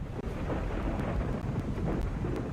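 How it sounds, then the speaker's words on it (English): Deep rolling thunder rumbles close by during a rough nighttime sea on the surface in a WWII submarine game aboard USS Balao, steady and broad like a storm with wind and rain noise beneath. "I hear thunder nearby."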